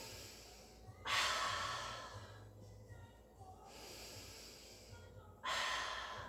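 Two loud, breathy exhalations about four seconds apart during a mat pilates exercise, close to the microphone, with quieter breathing between them.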